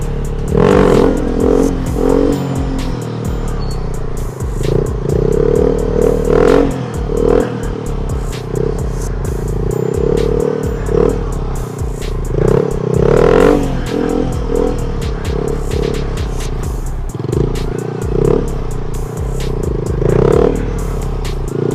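Honda MSX 125 Grom stunt bike engine running at a high idle and being revved repeatedly in short, rhythmic bursts, loud and close with some clattering mechanical noise, no talking.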